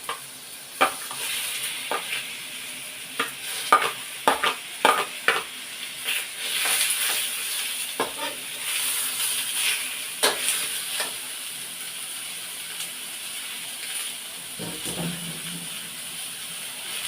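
Pork chop fries in oil with golden brown garlic in a steady, close sizzle, broken by sharp clicks and scrapes of a utensil against the pan.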